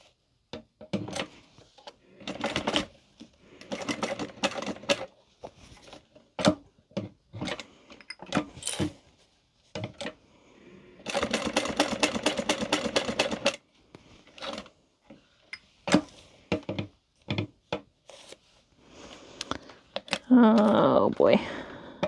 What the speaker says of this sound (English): We're gonna stitch around here.